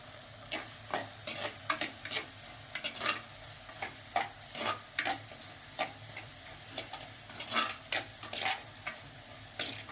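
Three green chilies frying and being stirred in a clay pot while a fish curry is made, a soft steady sizzle broken by repeated scraping stir strokes, faint and close, with no talking.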